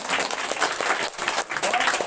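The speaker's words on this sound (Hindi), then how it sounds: "विक्रम के लिए जोरदार ताली मारिए।" Audience applause for student Vikram Kumar at a school prize distribution, a steady dense clapping from a crowd lasting about two seconds, with a brief dip midway.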